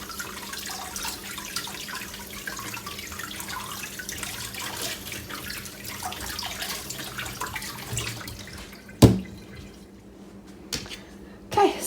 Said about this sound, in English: just gonna give this a quick little rinse.